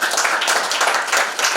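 A church congregation claps hands together, a dense, steady burst of many hands applauding at fairly close range.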